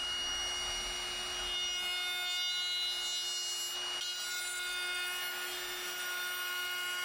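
A router cuts a chamfer along a wooden workpiece, a steady high whine holding a constant pitch over a broad hiss of cutting, continuous and evenly loud throughout with no voices.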